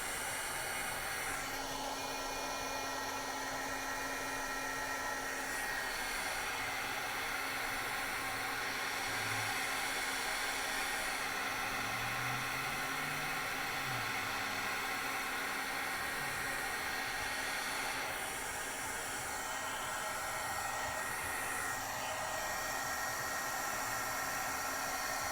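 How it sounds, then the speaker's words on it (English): A heat gun blows steadily and loudly without pause, drying shimmer pen ink in a constant close whoosh with no talking. "All right, take our heat gun here, move the shimmer pen."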